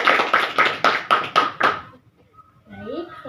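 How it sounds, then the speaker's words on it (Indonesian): A small group at a school group guidance session claps together in a steady burst of about seven beats, then stops, and a voice follows softly. "tepuk tangan untuk kita semua"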